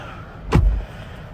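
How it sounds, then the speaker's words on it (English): A single Nissan Pathfinder car door swings shut with one fairly loud, dull thud that rings briefly, standing alone without talk. "Door sounds okay. Doesn't sound as solid as we might like"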